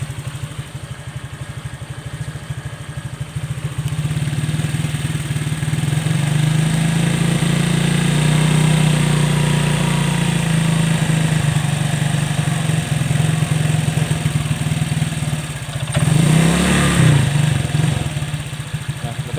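A Honda Click 125 scooter engine runs in a repair shop during work on excessive oil consumption, with a steady mid-pitched drone that swells briefly near the end, loud and close.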